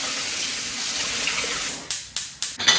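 Tap water gushes steadily as drained tinned mixed beans are rinsed under it, then breaks into a few sharp splashing bursts at the end.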